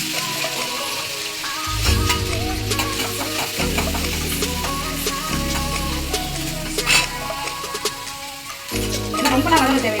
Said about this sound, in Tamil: இது எல்லாம் எண்ணெயில வதக்கி எப்படி பண்றதுன்னு பார்க்கலாம் வாங்க